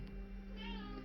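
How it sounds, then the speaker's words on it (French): A short, faint cat meow rises briefly over a steady low hum, heard alone with no talking. "Désolé, c'est mon chat"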